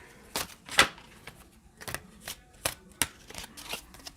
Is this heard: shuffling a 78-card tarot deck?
yes